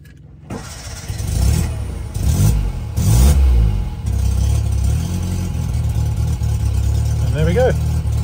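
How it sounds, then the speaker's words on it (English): A 1955 Fiat 500C Topolino engine cranks, catches and revs briefly, then settles into a steady idle; loud and close, with no talking. "quick video of start up and idling on this Fiat Topolino."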